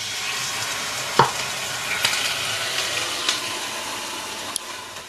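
Chicken sizzles steadily in a frying pan after a little water is added, a loud, continuous hiss with a few sharp pops and spatters standing out through it.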